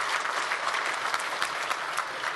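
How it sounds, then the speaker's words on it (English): Audience applause at a tech conference keynote on Windows Azure, dense steady clapping from a crowd filling the whole stretch at even loudness, with no voices over it. "you can clap for that"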